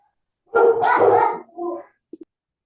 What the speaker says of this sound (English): Somebody's dogs are after me.